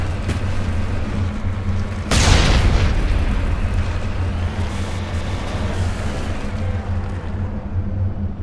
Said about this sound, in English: Gun sound.